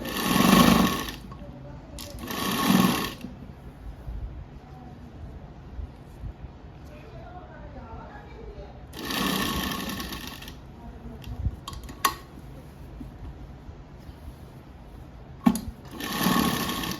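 Sewing machine stitching the neckline of a garment, heard as a few short whirring runs of stitching, close and fairly loud, with quieter handling sounds and someone talking in the gaps.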